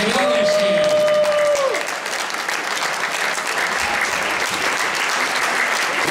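An audience claps loudly and continuously at a youth standard dance competition, dense applause filling the hall, with a voice speaking briefly over the start.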